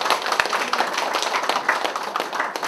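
A church congregation claps together during a Korean sermon, a dense, even patter of hands at moderate distance.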